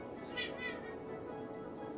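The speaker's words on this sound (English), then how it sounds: "Cat was being needy, making a lot of noises at the window" A cat meows twice in quick succession, fairly close, with a faint hum of the room beneath.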